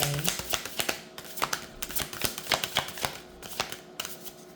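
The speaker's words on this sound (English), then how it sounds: "Let me shuffle one more." A deck of cards is shuffled nearby, with a quick run of crisp riffling snaps and riffles repeating in an uneven rhythm throughout.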